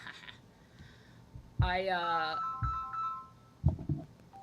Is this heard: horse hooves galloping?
no